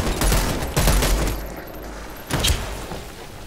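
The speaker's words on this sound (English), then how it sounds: "What gun is it? Burst fire." In a zombie shooter video game, a burst-fire gun lets off rapid clusters of gunshots, with two heavy bursts early and another near the end, loud and dense over a background of game noise.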